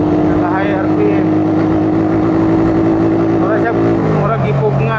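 A 2014 Raider 150 motorcycle runs at full throttle and high RPM by the sea, its engine a loud, close, steady drone that drops in pitch near the end, with someone talking over it.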